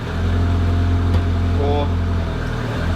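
Lotus Elise engine idling and humming steadily while the gear lever is worked through the gears, a low constant drone with a faint click, under a voice talking.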